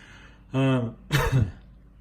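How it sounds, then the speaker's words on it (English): A voiced throat-clearing grunt followed by a rougher, breathy clearing, both close and loud against near silence. "excuse me, I have to clear my throat here."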